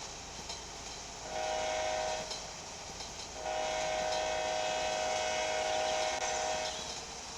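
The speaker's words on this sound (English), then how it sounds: "And we got another passenger train." In the Train Sim Pro game, a passenger train rumbles past while its horn sounds in two steady blasts, a short one then a longer sustained one, over continuous rail noise.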